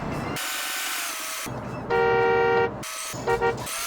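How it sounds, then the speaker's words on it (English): Car horn honking in the video game Yakuza 5, a loud steady blast followed by two short quick toots, over busy game street noise and engine hum. "Stop honking."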